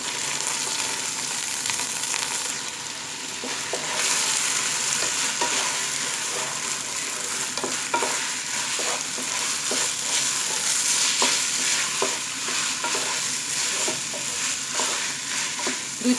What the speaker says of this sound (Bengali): দুই থেকে 3 মিনিট একটু ভেজে নিব চালটা।